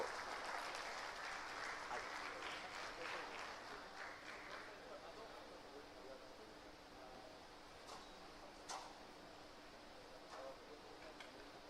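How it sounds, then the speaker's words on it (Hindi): An audience at a Hindi lecture event on cows and farming applauds to welcome a speaker, a dense, steady wash of clapping that gradually fades, with a few sharper claps near the end. "जोरदार तालियों से स्वागत करते हुए मैं आमंत्रित करना चाह रहा हूं गोपाल भाई सुतारिया जी को।"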